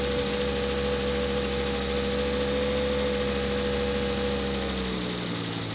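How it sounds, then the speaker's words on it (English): A Volvo V70 engine idles steadily with a low rumbling drone and a faint puffing exhaust leak, close by and continuous. "So you can maybe hear that slight exhaust blow."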